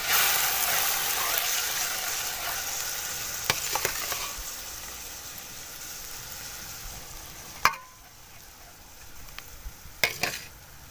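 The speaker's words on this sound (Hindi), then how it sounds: "इसके अंदर मैंने जस्ट आधा कप ही ऑयल डाला है, बल्कि घी डाला है, मेल्ट हो चुका है। इसके अंदर हम डाल देते हैं चावल उबले हुए।" Boiled rice hits melted ghee in a kadhai with a continuous sizzling hiss, stirred by a spoon that scrapes softly, plus a few sharp clinks against the metal pan.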